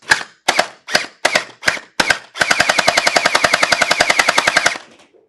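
A gel blaster firing glow-in-the-dark gel balls through a GelStrike UV glow feedneck: six separate snappy shots, then a rapid full-auto burst of about two seconds. The shots are close and crisp, with no talk.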